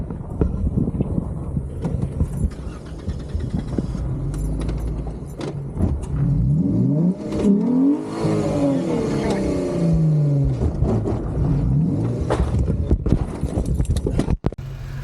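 A Jeep engine drones and revs loudly while the vehicle slides on icy snow during Pacific Northwest snow wheeling, with rising and falling engine tones under rumbling noise.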